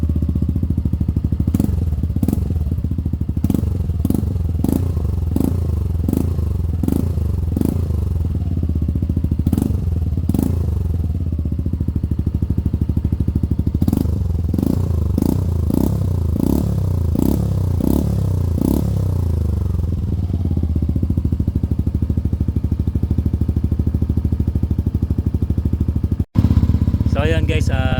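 A Yamaha Aerox V3 scooter fitted with an RS8 Redlak exhaust, revved repeatedly in short bursts from idle, each blip rising and falling against a deep steady idle rumble, close by, with a louder cluster of revs midway and a sharp knock at the end.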